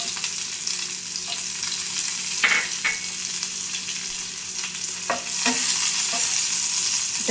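Chopped onions fry in hot oil with cumin seeds, browning to red. A steady broadband sizzle runs throughout, with a few scraping stirs of the spatula and no talk.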